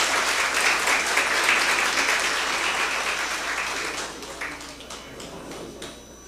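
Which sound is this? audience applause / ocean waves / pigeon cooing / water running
audience applause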